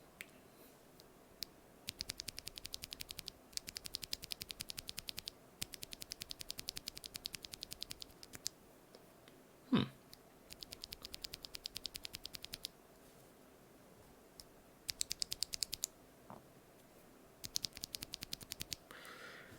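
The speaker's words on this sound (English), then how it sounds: "And here is the lubed one." Someone types on lubed NovelKeys BOX Cream keyboard switches in quick bursts of crisp, close clicks separated by short pauses, with one louder knock midway and no talking.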